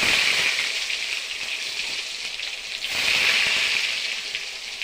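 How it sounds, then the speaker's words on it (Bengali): Eggplant slices frying in hot oil, a loud, continuous crackling sizzle up close that swells and eases slightly over several seconds, with no talking. "আর এখন বেগুন ভাজাগুলো করে নিই।"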